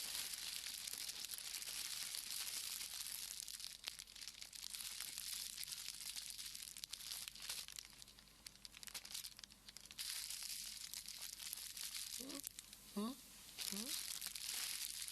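Crinkly plastic rustles and crumples steadily up close while people talk over it, the crackling rising and falling in bursts.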